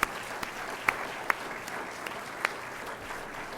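An audience at a college address applauds contest participants, a steady wash of many hands with a few sharp individual claps popping out, moderately distant in a large hall.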